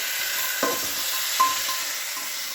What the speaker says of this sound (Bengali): মশলা দিয়ে ভালো করে কষিয়ে নিচ্ছি আলুর ঝোলটা।